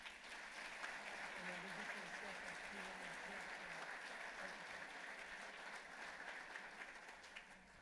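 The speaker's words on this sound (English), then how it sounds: "So ladies and gentlemen, a round of applause for Chioma." A room full of people applauds for an honoree at a political event, steady continuous clapping at a moderate distance with a faint murmur of voices beneath.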